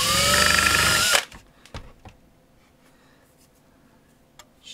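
Power drill boring a hole through the metal case of a bench power supply, one loud continuous whirring burst that cuts off abruptly, followed by a few faint clicks and clatter.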